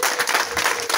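A church congregation applauds at a bishop's ceremony, a thick wash of many hands clapping at once, loud and unbroken throughout the brief moment.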